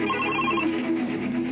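A telephone bell rings indoors, a trilling electronic ring repeating steadily for about a second and a half at moderate volume, with no voices over it.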